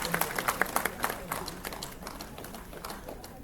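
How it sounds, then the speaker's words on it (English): An audience applauds at the inauguration of the NIT Agartala global annual alumni meet, with brisk sharp claps at the start thinning into softer scattered clapping, a murmur of voices faintly beneath. "A great round of applause."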